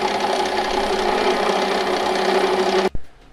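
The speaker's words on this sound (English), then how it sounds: "we're going to put these on the lathe and just kind of turn them down to what we need" A metal lathe turning down metal spacers for a subframe swap hums and whirs steadily and close by, then stops abruptly with a brief knock near the end.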